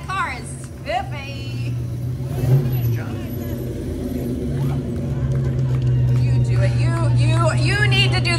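A car rolls past in the 2021 Woollybear Parade in Vermilion, Ohio, its steady low engine hum under continuous talk and crowd noise, growing a little louder toward the end.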